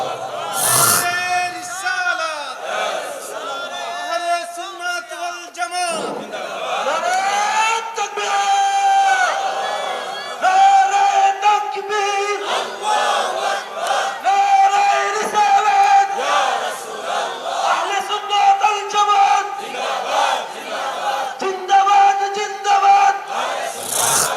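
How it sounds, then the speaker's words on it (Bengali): A large crowd at an open-air Sunni religious sermon gathering chants the takbir in loud, repeated unison shouts, the roaring voices rising and falling together over several seconds and filling the space close and strong. "তাকবীর দেন একটা, আল্লাহু আকবার"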